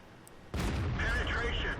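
A single heavy tank cannon shot penetrating armor in World of Tanks lands as a sudden loud boom after a quiet moment, followed by rumbling reverberation and metallic ringing, with some speech underneath.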